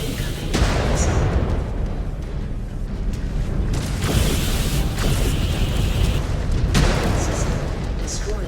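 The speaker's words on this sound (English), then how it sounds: "Incoming missile." Incoming missile explosions in MechWarrior Clans, a series of heavy booming impacts over a constant low mechanical rumble, with several loud bursts spaced a second or two apart.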